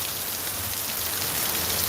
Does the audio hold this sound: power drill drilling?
no